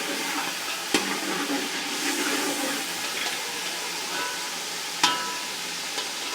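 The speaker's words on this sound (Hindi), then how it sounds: "लहसुन अदरक और हरी मिर्चें जो हैं वो हमारी फ्राई हो रही हैं अच्छे तरीके से" Garlic, ginger, green chillies and garam masala frying in a pan for chicken korma, a steady soft sizzle with occasional stirring clinks of a spoon against the pan, close and moderately quiet.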